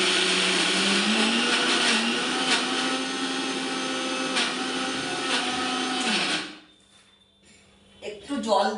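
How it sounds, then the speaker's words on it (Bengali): A kitchen mixer grinder grinding soaked lentil paste for bori runs loud and close with a steady high whine for about six seconds, then spins down and stops, leaving quiet before small handling clatter. "এই মিক্সারে বেটে নেবো"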